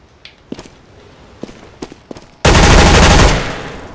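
Gunfire on a weapons course in CS:GO, with scattered single sharp shots and light footstep-like clicks, then a loud dense automatic burst lasting about a second.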